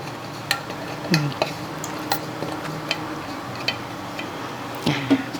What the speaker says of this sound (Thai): กวนกันค่ะ สัดส่วนที่เราผสมไว้เมื่อกี้นะคะ